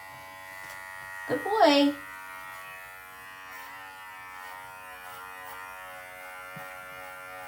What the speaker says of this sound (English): I'm just going to shave his back legs.